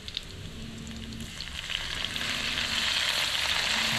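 Browned garlic sizzles in a pan as soy sauce is poured in, a bright frying hiss that swells and grows louder toward the end, with a few faint clicks and no talking.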